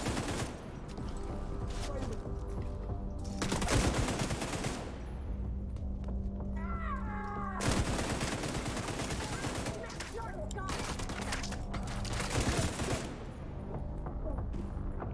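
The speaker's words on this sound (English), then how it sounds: "Got a tap fire at long range." Rapid bursts of automatic and tap gunfire from The Division 2, loud and dense, recurring in heavy volleys around a few seconds apart across the stretch, with brief quieter gaps between; a voice talks briefly.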